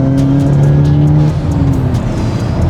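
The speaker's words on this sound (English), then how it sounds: "So third gear, full throttle." A 2023 Hyundai Elantra N with a blow-off valve roars loudly at full throttle in third gear, a steady droning tone that shifts in pitch partway through, heard from close by.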